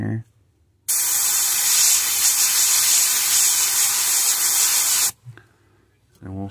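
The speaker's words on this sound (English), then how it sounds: "And we'll spray that dot." An airbrush sprays a dot of paint onto a threadfin shad fishing lure: a loud, even hiss lasting about four seconds, with brief talk before and after it.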